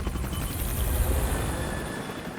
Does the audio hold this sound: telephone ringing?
no